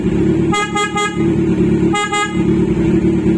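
A PIAA horn on a Kawasaki Z1000 motorcycle honks in two quick bursts of short beeps over a steady loud engine idle, close by.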